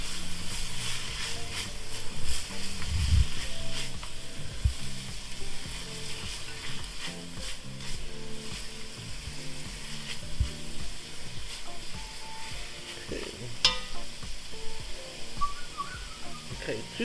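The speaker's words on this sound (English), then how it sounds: "So let's give this a quick stir." Herbs being stirred with a spoon through hot oil in a pan, a steady sizzle and frying hiss running throughout, with light scraping of the spoon under it.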